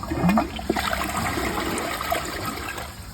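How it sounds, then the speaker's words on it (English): A Niagara Stealth toilet flushes with a quick gurgling rush of water that peaks at the start and then settles into a steady draining swirl, close and fairly loud. "All right, let's give it a flush."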